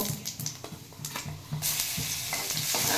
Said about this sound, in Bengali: 3 মিনিট অবধি আমি এটাকে একটু ভাজা ভাজা করব, যাতে কাঁচা গন্ধটা চলে যায়।